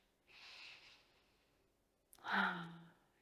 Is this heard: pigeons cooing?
no